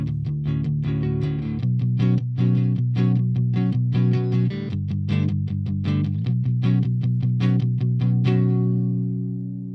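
Clean electric guitar on the neck pickup, played through a Lichtlaerm Audio LCFR150 speaker, rings out in steady strummed and picked chords with sustained low notes and crisp attacks, loud and close, with no talking.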